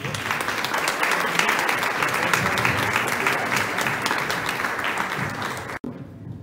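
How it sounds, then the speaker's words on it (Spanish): An audience claps through a Lenten talk on forgiveness, with continuous, dense applause from a sizable crowd that holds steady before stopping abruptly near the end, followed by a quieter murmur. "Le damos un aplauso, ¿les parece?"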